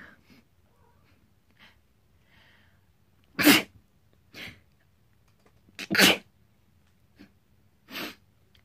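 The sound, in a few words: sneeze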